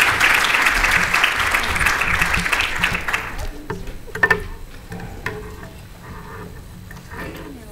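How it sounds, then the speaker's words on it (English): A conference audience applauds a keynote speaker at an academic event, a broad wash of clapping that fades after a few seconds into scattered claps and room noise before a voice begins. "Please give him a huge round of applause."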